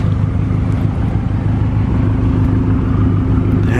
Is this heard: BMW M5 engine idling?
yes